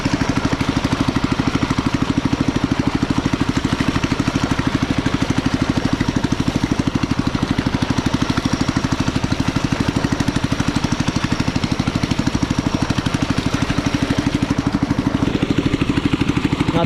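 A hand tractor plows a deep, muddy rice paddy, its engine chugging in a loud, steady, rapid rhythm close by for the whole stretch, with no talking.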